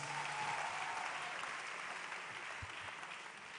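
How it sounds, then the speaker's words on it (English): Faint applause from an event audience, a quiet steady patter of hands heard from a distance and fading slightly over a few seconds. "Can you clap your hands?"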